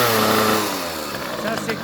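A Rieju MRT 50 moped engine fitted with a 30mm carburettor revs loudly and close, its pitch rising and then falling back over a short burst.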